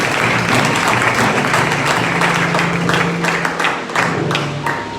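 A church congregation applauds during a French-language sermon, a dense, loud wash of clapping hands with scattered sharper claps, sustained throughout with faint voices mixed in.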